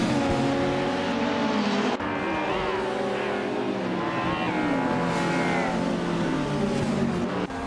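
Race cars roar around a track in a racing game, a 1990 Nissan Skyline GT-R R32 on pole: steady loud engine drone with layered revving tones shifting pitch as cars accelerate together, no talking.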